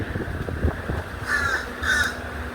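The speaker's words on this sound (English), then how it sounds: "Noisy birds." Two loud caws from a crow in Florida, a second apart, over a low rumbling background.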